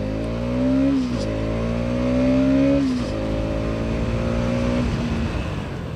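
A Bajaj Pulsar NS200 motorcycle accelerating on the road, engine rising in pitch through two gear changes and then holding steady, loud and close with steady wind rush throughout.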